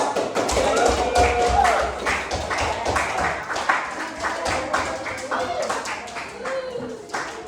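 A classroom gives group 4 a round of applause, with scattered taps and claps that fade out as voices carry on talking.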